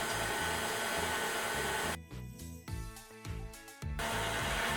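Stand mixer beats divinity candy with sugar, giving a steady motor whir with a rhythmic churning pulse that eases briefly in the middle and then resumes at full strength, alone with no talk.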